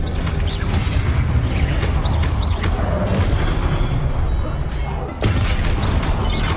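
A Confringo fire spell explodes in the Hogwarts Legacy video game, giving a loud, dense blast and crashing impact with a second burst near the end, set over continuous game sound.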